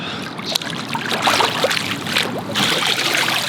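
Running water splashes steadily over hair during a wash, a close, continuous rushing trickle with soft shifting splatters and no talking.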